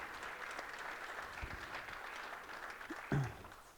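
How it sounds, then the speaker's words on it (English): Faint, distant audience applause fills a tax symposium hall, a soft, steady patter of clapping lasting a few seconds with a brief louder knock near the end. "I want a round of applause for Victoria."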